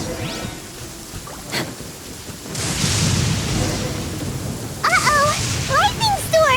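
A lightning storm rolls through Genshin Impact, steady rain hiss swelling into a loud, rumbling wash of thunder and downpour over the second half, with a voice talking over it near the end.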